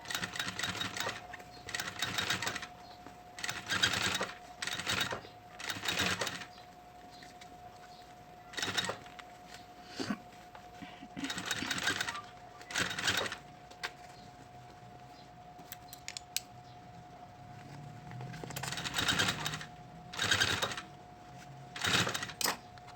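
A sewing machine stitching a synthetic leather school pencil case runs in repeated short bursts of rapid mechanical chatter separated by pauses, close and moderately quiet over a faint steady hum.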